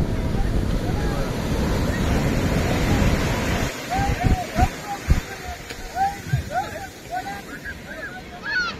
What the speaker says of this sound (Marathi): खूपच मोठा समुद्र किनारा आहे आणि बोटी पण भरपूर आल्यात आज।